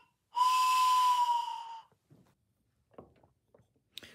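A single loud, steady flute note imitating a train whistle blows for about a second and a half, breathy and hissing, then stops, followed by faint clicks and handling sounds.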